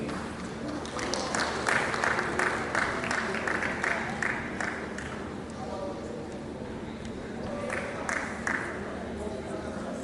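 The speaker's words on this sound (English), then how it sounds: "Please a round of applause for the dean." An audience applauds the faculty dean of Dentistry at a University of Ibadan ceremony. Steady, moderate clapping comes in waves over a roomy hall, with a speaking voice and murmurs mixed in.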